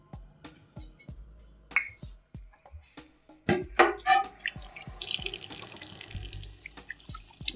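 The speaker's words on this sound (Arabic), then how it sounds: "استغسل ايدي من الجمبري" Hands are washed under a running kitchen tap after cleaning shrimp, with scattered drips and splashes that build into a steady stream of water, close and with no talk.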